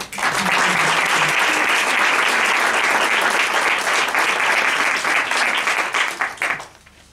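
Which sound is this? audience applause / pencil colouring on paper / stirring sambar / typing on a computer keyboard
audience applause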